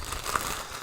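Plastic packaging around a football shirt crinkles and rustles softly in a short, continuous close-up burst with no speech.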